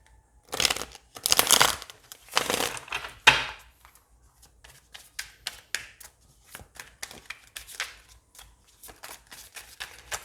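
Tarot cards are shuffled by hand in repeated crisp riffles and flutters, close and fairly quiet, in irregular bursts with short pauses between.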